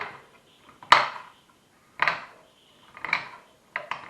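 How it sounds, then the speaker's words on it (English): A sharp knife chops chocolate on a board for a tray bake, four distinct crisp thuds spaced about a second apart, close and clear with quiet gaps between. "It really does help if you've got a nice sharp knife to do this with."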